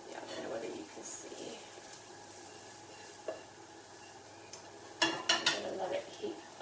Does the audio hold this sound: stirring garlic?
yes